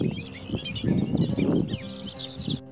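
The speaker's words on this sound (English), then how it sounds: "I saw a bobolink, another bird with a unique sounding song." A bobolink sings a bubbly, jumbled run of high chirps and warbles. The song carries over a busy lower rumble of background noise and breaks off sharply at the end.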